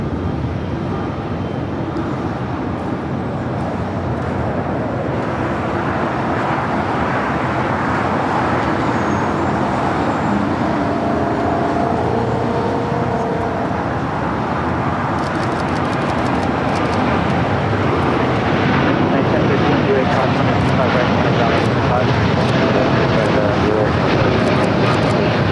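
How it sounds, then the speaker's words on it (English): An Air Canada Boeing 787-9 Dreamliner rolling for takeoff on runway 25 right at LAX, a sustained, fairly loud jet roar that grows slightly stronger over time, mixed with distant road traffic. "Air Canada 788 taking off to Toronto on the 787-9 Dreamliner"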